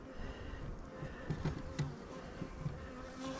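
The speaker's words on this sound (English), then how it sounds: "There's one angry one buzzing around here, telling me to go away." A honey bee buzzing around a hive frame during a beehive inspection, a faint, steady insect drone close by with small swells as it circles, no talking.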